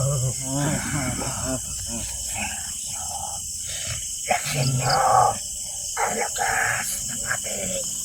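Dogs bark in scattered bursts at a moderate distance, mixed with people talking and a steady background hiss.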